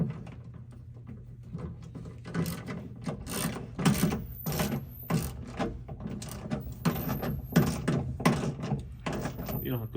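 Metal clips on a Dodge cab being tightened down with an 8 mm tool, a string of close, uneven ratcheting clicks and mechanical knocks beneath a voice.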